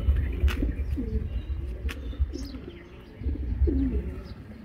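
A racing pigeon in a loft gives low, repeated throaty coos close by, with soft rustling and faint chirps in the background and no voices.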